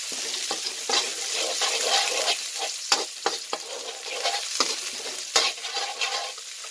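Onion fries in hot oil for squid adobo, a soft, steady sizzle broken by repeated scraping stirs and clicks of a utensil against the pan, close and fairly quiet, with no voices.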